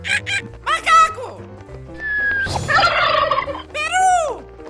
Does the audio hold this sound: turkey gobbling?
yes